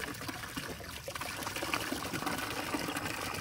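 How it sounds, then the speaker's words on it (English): A pig drinking from a running garden hose on a farm, with steady trickling and splashing water throughout and the soft lapping of the animal mixed in, close by, with no talking. "Here, she's drinking out of a hose."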